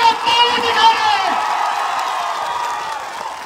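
A large crowd at a political rally in Agartala claps and cheers loudly, a dense, continuous roar of applause mixed with shouting voices that fades slightly toward the end.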